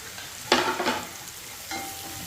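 Onion, curry leaves, ginger and green chilli sauté in coconut oil, a soft steady sizzle with two brief bursts of stirring and a faint later clink, heard up close with no talking.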